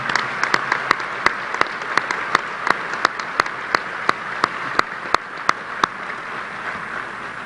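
An audience at a Texas Tech gathering applauds to welcome new football coach Matt Wells and his family, a loud sustained clapping with sharp, evenly spaced snaps standing out above the crowd throughout.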